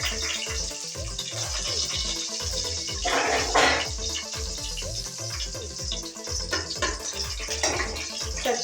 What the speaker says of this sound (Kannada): ನಂತರ ಎಣ್ಣೆ ಕಾಯ್ದಿದ್ದು ಬಿಸಿಯಾಗಿದೆ. ಸ್ವಲ್ಪ ಮೆಣಸಿನ್ಕಾಯಿ ಹಾಕ್ತಾಯಿದ್ದೀನಿ.